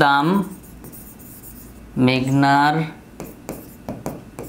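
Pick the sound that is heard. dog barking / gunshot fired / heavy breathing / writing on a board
writing on a board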